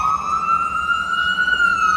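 An ambulance siren passes, its loud, steady wailing tone rising slightly in pitch over two seconds, with no talking.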